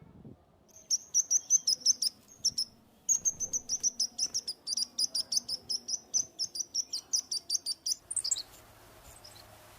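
A sparrow chirps in a rapid, steady run of sharp, high notes, close and clear for most of the stretch before the calls stop near the end.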